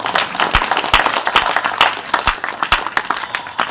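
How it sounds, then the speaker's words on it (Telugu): A church congregation claps loudly together, sharp irregular hand claps with louder accents scattered through a few seconds, close and alone without talk. "కొట్టండి చప్పట్లు గట్టిగా"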